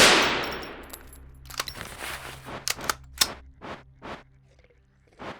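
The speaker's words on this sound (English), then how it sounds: "I'm panically shooting at the enemy" Rapid gunfire from weapons in the sci-fi survival tactical RPG No Such Place, with a dense opening burst followed by a string of sharp, separate shots that thin out and fade.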